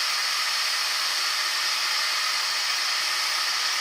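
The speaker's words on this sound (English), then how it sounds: "the lathe running at about half speed, something like that" A wood lathe spins at roughly half speed while turning a beginner's bowl, giving a steady, even airy whir that holds unchanged throughout, close and fairly loud with no voices.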